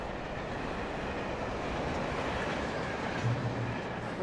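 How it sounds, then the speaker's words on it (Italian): A train rumbles past in the video game Alan Wake, a steady, dense roar of rolling wheels and rail noise at moderate distance, continuous throughout with no voices. "Un treno!"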